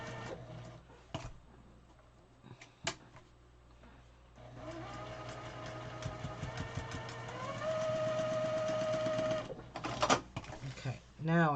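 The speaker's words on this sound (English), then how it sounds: "I'll sew it here because I'm going in a different direction." An electric sewing machine stitches quilt-as-you-go blocks, starting with a few clicks and short bursts, then running in a steady close whirring hum that rises in speed before stopping, with someone speaking briefly in between.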